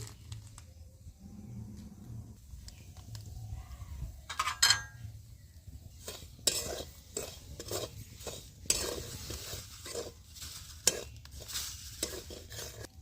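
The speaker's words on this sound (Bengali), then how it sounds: "উনুনে কড়াটা বসিয়ে দিয়েছি, এই গরম হয়ে গেছে কড়া, তাতে আমি সুজিগুলো দিয়ে দিচ্ছি।" Semolina is stirred in a hot pan, giving repeated scraping and clinking strokes with a soft sizzle underneath, close and moderately loud, with no voices.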